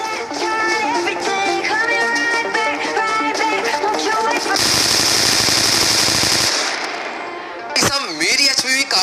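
M249 machine gun firing in a battle royale video game: loud rapid automatic bursts, with a dense sustained stretch of fire, while someone talks over the gameplay.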